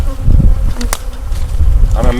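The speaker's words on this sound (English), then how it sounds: "I'm imagining it's going to be a pretty good mess of bees over here for a while" Carniolan honey bees buzz loudly around a nucleus hive just after its entrance flap is opened, a dense close drone with individual bees zipping past. A brief voice comes in near the end.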